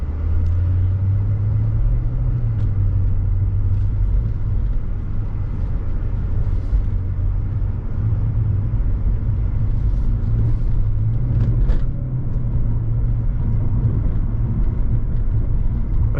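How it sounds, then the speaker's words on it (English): A supercharged Mercedes AMG E55 Kompressor engine rumbles steadily at close range, with a faint high supercharger whine riding above the low drone throughout. "you can hear the supercharger whining as well"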